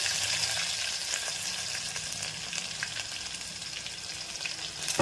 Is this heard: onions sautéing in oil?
yes